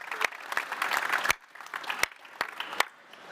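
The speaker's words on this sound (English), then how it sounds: "Let's give him a round of applause." Sparse, light clapping from a small audience welcoming a panelist at a robotics round table, a soft patter with a few sharp individual claps that thins out toward the end.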